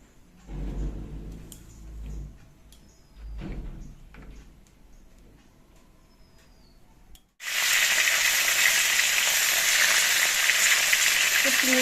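Egg frying in a pan for a taro curry, at first faint clatter and soft kitchen noises, then a sudden loud, steady sizzle bursting in as the egg hits the hot oil and continuing to the end.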